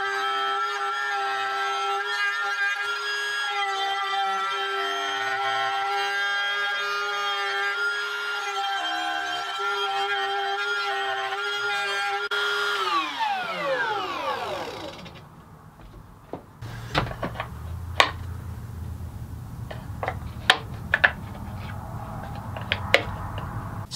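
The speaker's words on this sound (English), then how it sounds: "So I'm gonna use my trim router with a straight cutting bit and just freehand a little space." A trim router fitted with a straight bit whines at a steady high pitch for several seconds, cutting into a wooden bowl, then spins down with a falling tone, followed by quieter knocks and handling of the wood.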